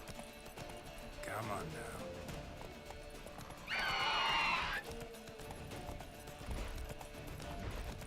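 Roach, a horse in The Witcher 3, gives a loud whinny mid-clip amid hoofbeat clip-clops and game ambience, while someone speaks over it.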